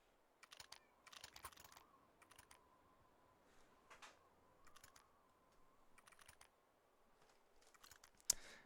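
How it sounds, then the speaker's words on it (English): Scattered bursts of clicky keystrokes tap across a computer keyboard as a cat walks over it, faint and uneven, in short clusters with pauses between, ending in one sharper click. "My cat just jumped on my keyboard."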